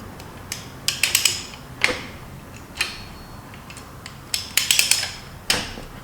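A ratchet wrench working on a stubborn bolt of a neglected Chevy C10 truck: short, close bursts of dry clicking, some single and some in quick clusters, repeating irregularly with quiet gaps and no talking.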